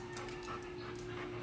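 A dog pants close by in quick, steady breaths, a soft continuous rasp over a low background hum, with no talking.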